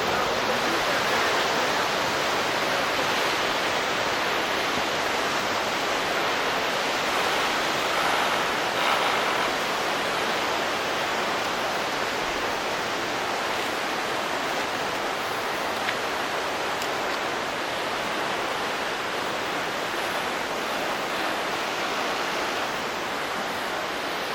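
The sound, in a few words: flowing river water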